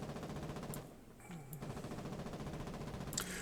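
A machine gun fires in the war game Foxhole as a rapid continuous burst of shots at moderate volume, with a brief lull partway through.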